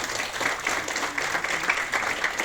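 Applause from an audience at a lamp lighting ceremony, steady moderate clapping from a crowd in a hall, continuous with small swells across the few seconds.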